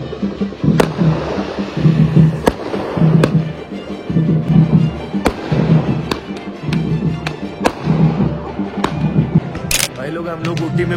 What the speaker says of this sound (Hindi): रास्ते में कोई फेस्टिवल चल रहा था और पटाखों से पूरा आसमान चमक रहा था